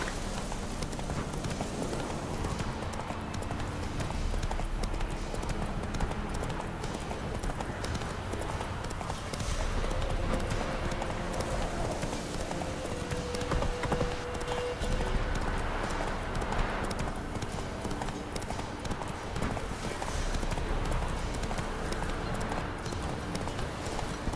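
Roach the horse trots along in The Witcher 3, hooves clip-clopping steadily and continuously close by under background game sounds.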